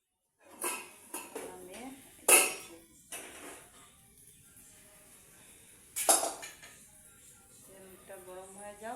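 Boiled small fish poured from a pan into a bowl, a few clattering clinks of metal cookware close by amid brief rustling, with a voice speaking over it.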